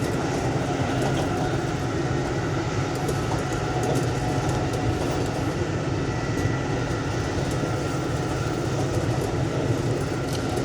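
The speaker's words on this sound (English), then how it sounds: "It looks like we've hit a point in the ride where the train's going pretty quick." An Amtrak Acela train runs at high speed, heard from inside the carriage as a loud, continuous rushing roar with rumble and faint rhythmic clatter, no talking.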